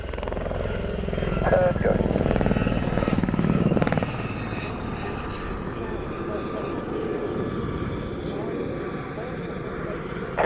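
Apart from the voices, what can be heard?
Gazelle helicopter flying at an airshow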